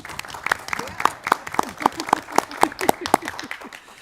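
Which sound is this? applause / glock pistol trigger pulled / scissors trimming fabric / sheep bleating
applause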